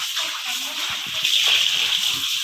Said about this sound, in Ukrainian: І починаємо вимочувати рибу в холодній воді.